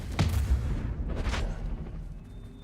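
Confringo spell blast in the video game Hogwarts Legacy, two booming explosive bursts about a second apart, the first sharp and heavy, the second softer, fading into a low rumble and quiet tone.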